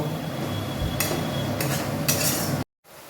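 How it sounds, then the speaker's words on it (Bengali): Boiled-egg bhurji with roasted cumin and coriander powder sautéing in a pan: a steady sizzle under three brisk spatula scrapes, then a sudden brief silence before it resumes faintly, without voices. "দিয়ে আরও কিছুক্ষণ আমি এটাকে কষিয়ে নেব"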